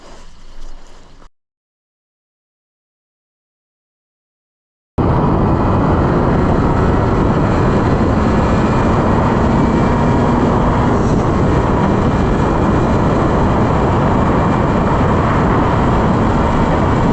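A Yamaha RD400 motorcycle engine runs after a clutch repair, a loud, steady drone that fills the clip after a short quiet gap near the start.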